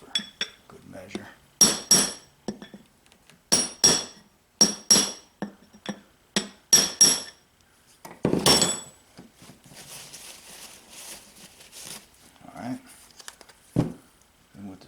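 A hammer strikes metal in sharp, ringing clusters of two to four blows, seating a wheel bearing on a Honda 300TRX FourTrax ATV, with quieter pauses and a voice talking between the bursts.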